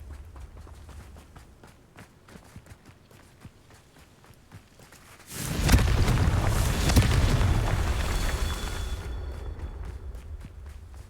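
A Confringo spell explosion in the video game Hogwarts Legacy, a sudden loud boom that rolls into a sustained rumbling blast for several seconds after a stretch of quick running footsteps.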